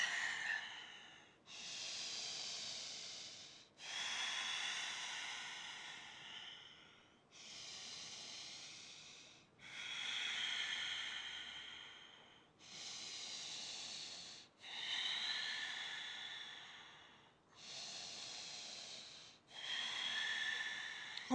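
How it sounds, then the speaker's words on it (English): Deep, rhythmic breathing during a yoga session, nine long slow breaths in a steady cycle of roughly two and a half seconds, close and clear with no talking. "starting to drop into a deep rhythmic breath"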